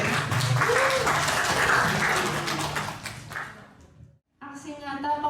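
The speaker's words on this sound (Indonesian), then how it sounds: "Marilah kita sambut dengan tepuk tangan yang meriah, Bapak Ibu." An audience at an Indonesian teachers' training session applauds in a dense, steady wash that fades toward the end, breaks off for a moment, and then a voice begins speaking.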